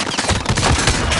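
Loud, dense bursts of rapid automatic gunfire crackle nonstop at close range, enemy fire coming from behind in a video game shootout.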